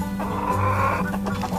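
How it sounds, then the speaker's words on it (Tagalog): A breeding rooster lets out a loud, close, drawn-out crow on a farm, with clucking farmyard birds around it. "Mga rooster for breeding."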